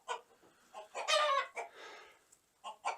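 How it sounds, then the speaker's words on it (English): Agitated chickens and a rooster in a coop, giving a burst of close, excited clucks and squawks with short gaps, fairly quiet and free of talk. "Rooster is still freaking out."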